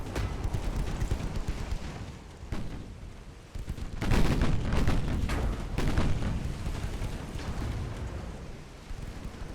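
Naval gunfire from 7-inch guns in the warship game Ultimate Admiral: Dreadnoughts, 1936 Pacific battle: repeated deep booming salvos and rumbling blasts, heavier in the middle, over a constant low battle roar.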